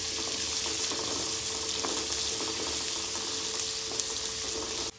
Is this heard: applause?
no